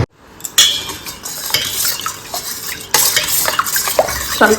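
A spoon stirs homemade sharbat in a glass, clinking and scraping against the sides in quick loud bursts, close and continuous, with no talk.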